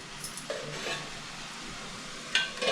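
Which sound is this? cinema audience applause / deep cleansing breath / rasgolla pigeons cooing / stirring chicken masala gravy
stirring chicken masala gravy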